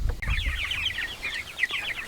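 Chickens in a backyard chicken tractor clucking and chattering in quick, overlapping calls, fairly close and moderately loud, with no talking.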